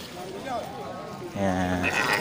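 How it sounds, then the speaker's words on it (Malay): At a livestock market, large sheep give a wavering bleat, followed by a longer, steadier bleat, heard at moderate volume under a busy crowd background with people talking. "banyak terlihat di depan kita ni domba-domba besar ya"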